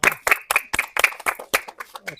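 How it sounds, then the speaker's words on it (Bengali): An audience claps as a group, a run of sharp uneven hand claps at close range, with a voice speaking under them. "সবাই এর জন্য একটা হাততালি হবে"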